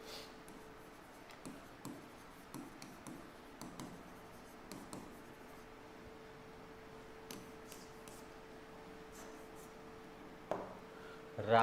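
Hand-writing on a board or tablet during a Java programming lesson, a series of faint, evenly spaced scratchy strokes with short pauses, quiet background hum, no talking.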